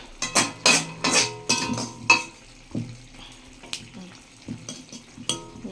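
A spoon scrapes and stirs food stuck to the bottom of a kadai, with several loud clanking strokes near the start, then quieter scattered scrapes and taps, close by and with no talk.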